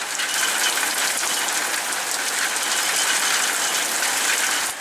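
Fast, heavy rain pours steadily in Wales, a dense, even hiss of drops drumming on surfaces with no pauses or voices, close and loud throughout.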